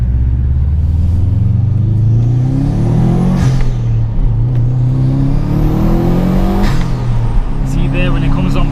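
A 320-horsepower Subaru Impreza P1 with proper four-wheel drive revs hard under acceleration, its engine note rising and falling across several gear pulls, loud and close from inside the car with road rumble beneath.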